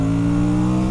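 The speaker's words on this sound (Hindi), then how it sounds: "तो this is how the auto blipper works" An Aprilia RS 457 motorcycle engine, rev-matching on a downshift with its auto blipper, makes a loud, steady, close-up engine drone with strong harmonics and no other sounds.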